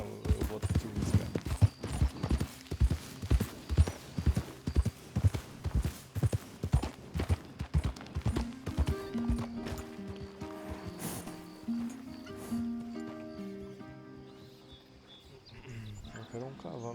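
Horse hooves clip-clopping at a steady walking rhythm in Red Dead Redemption 2, close and clear with birds chirping in the background, the hoofbeats easing off halfway as the ambience and tonal sounds take over.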